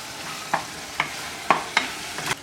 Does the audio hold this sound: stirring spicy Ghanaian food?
yes